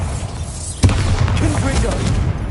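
A Bombarda blasting spell goes off in Hogwarts Legacy, a sudden loud booming burst that rolls into a dense, rumbling crackle of debris and magical effects, with ongoing game noise around it.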